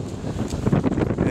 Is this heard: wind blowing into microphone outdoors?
yes